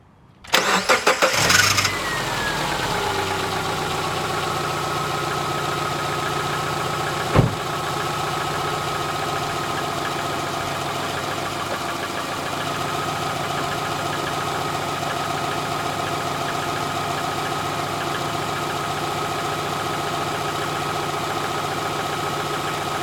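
A Subaru engine, one suspected of head gasket failure, cranks and fires, then settles into a steady idle with a single brief knock partway through, close and with no talk.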